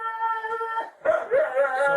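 Dogs shut inside a house whimper and howl in drawn-out, wavering cries, loud and close, with a short pause before several overlapping voices rise again.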